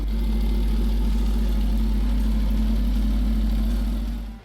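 A Kawasaki Ninja H2 supercharged sport bike engine runs at a steady idle, with a deep, even rumble and a constant low hum held close and loud until it cuts off abruptly at the end.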